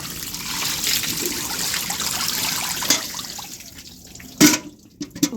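Water trickles steadily as it is poured onto soil and soaks in, a continuous close dribble with a few sharper splashes and drips near the end.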